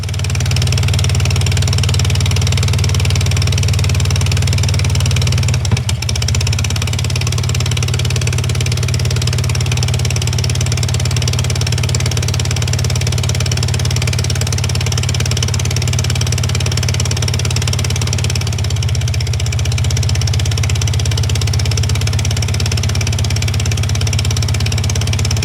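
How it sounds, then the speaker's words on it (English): An Aeronca C3 aeroplane engine idles as it warms up, a loud, steady low drone with an even throbbing rumble that holds constant nearby throughout. "Whilst the engine warms up, I deal with things like GoPros and load my gear into the aeroplane"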